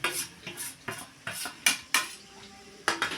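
Fish pieces are stirred into curry in a pan, with a run of close, clattering metal scrapes and knocks in uneven bursts and a light sizzle between strokes.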